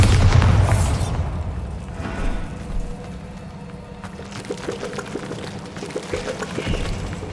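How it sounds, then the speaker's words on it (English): A Bombarda spell blasts through a barrier in Hogwarts Legacy: a loud, deep boom at the start, then a rumbling, crumbling wash of debris that settles into a lower, steady roar. "Another barrier. We can blast through it, I'm certain."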